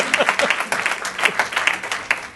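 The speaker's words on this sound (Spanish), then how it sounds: "Otro aplauso fuerte para él." Audience applause at a Spanish media debate event: a full room clapping steadily for a couple of seconds, dense and even, with scattered louder claps and no speech over it.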